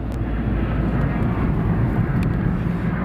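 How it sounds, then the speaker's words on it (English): Auxiliary power unit running on an old parked airliner on the apron at Munich airport, a constant loud low-pitched roar and whine that holds steady throughout without talking. "Got the APU still running on her"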